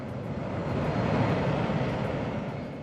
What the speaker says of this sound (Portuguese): iniciou sua corrida de decolagem com o rugido dos motores